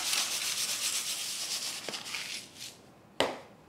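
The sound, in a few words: salt being sprinkled onto a foil-lined baking sheet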